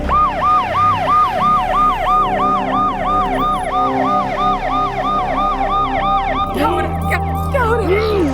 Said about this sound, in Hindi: संघवी सर, एम्बुलेंस बुलाओ